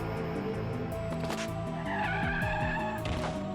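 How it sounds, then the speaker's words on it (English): Car brakes screech as tires skid on the road, a sustained high squeal rising over a steady musical score with engine rumble beneath, loud and continuous for a few seconds. "when I heard a screech of car brakes"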